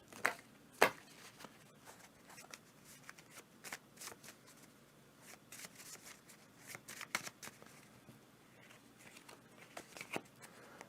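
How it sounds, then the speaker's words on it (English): Board game cards for Ottoman Sunset shuffled by hand on a table, a quiet run of soft riffling and snapping bursts with a sharper clack near the start, fairly close and without talk. "So we're going to do a quick little shuffle here, actually."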